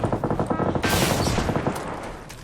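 Rapid automatic gunfire in PUBG, a fast rhythmic stream of close, loud shots that breaks into a heavier blast near the middle and then trails off, with no talking.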